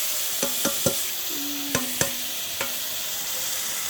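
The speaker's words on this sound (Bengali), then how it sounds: "এখানে টক দই সব মশলা টশলা বেটে দিয়েছে, এটা দিয়ে দিচ্ছি, ভেজে নিচ্ছি আগে এটা" Yogurt and ground spice paste frying in a pan for a vegetarian jackfruit biryani, a constant close sizzle with a few sharp spoon clicks and scrapes against the pan.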